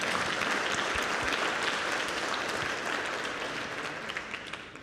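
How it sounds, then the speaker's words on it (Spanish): An audience at a talk breaks into steady applause that holds for several seconds and then fades gradually toward the end. "Un aplauso para Can."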